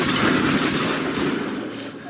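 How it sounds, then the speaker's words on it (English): Automatic gunfire in the tactical shooter Ready or Not, rapid bursts echoing through indoor spaces, loud and continuous at first, then thinning out and fading slightly toward the end. "Gunfire echoes in the different places"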